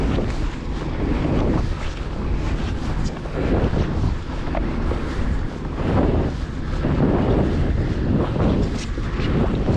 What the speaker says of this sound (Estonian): täna tuul kannab.